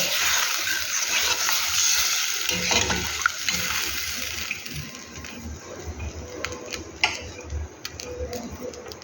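Water poured into a pan of simmering curry after the spices have been fried down in oil, a steady hissing splash and bubbling up close for the first few seconds, then fading to quieter bubbling with light clicks.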